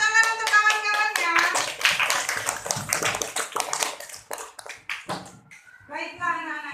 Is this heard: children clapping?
yes